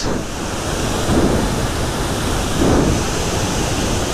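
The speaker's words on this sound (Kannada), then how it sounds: "ನೋಡಿ ಮೋಕಾನನ ಫಾಲ್ಸ್" Mookana Falls waterfall roaring continuously, a dense, loud rushing wash of falling water close by, with slight surges in intensity and no voices.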